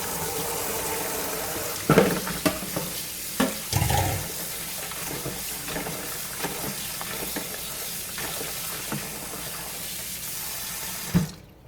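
Shrimp rinsed under a running kitchen tap, a steady close water stream with splashing and a few sharp clatters against the sink, no voices.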